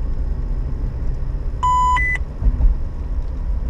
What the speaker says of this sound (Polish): jeżeli przekroczymy prędkość, to albo takim sygnałem, albo w ustawieniach możemy ustawić, żeby nawigacja ostrzegała nas głosem